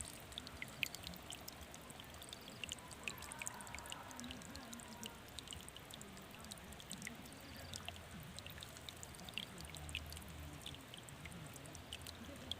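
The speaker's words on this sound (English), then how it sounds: "this water is coming from our boss. This is coming from Marwa's property. It's flowing." A small stream of water flowing through a village in Nyabohanse gives a faint, continuous trickling and pouring sound, quiet and steady throughout, with no talking.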